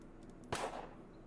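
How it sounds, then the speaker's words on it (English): A single sharp gunshot cracks out in a wild-west video game against faint background hum, brief and moderately loud. "the sound of gunfire sets you quivering like a coward"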